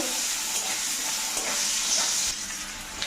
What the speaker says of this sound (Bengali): আলাদা আলাদা করে সবজিগুলো ভেজে তুলে নিব আগে আলুটা ভেজে নিব